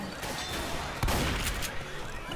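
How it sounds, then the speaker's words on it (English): Continuous gunfire in the Left 4 Dead 2 video game, dense overlapping shots with a louder burst around the middle, sustained throughout at steady loudness. "Freaking shooting in all directions."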